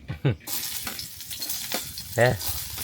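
Onion dropped into hot oil for stuffed brinjal bharit, a broad sizzle with bursts of spatter and a few sharp scraping stirs close by; no talk.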